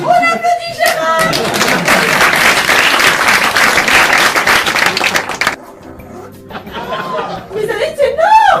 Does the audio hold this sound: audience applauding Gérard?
yes